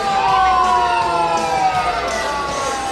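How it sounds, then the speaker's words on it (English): A vintage police car's siren wails loudly and close at a July 4th Frontier Days parade in Willits, its rising and falling tone continuous over the engine rumble. "We're starting off this year's parade with the Willits mascot police car driven by Jim Montalvo."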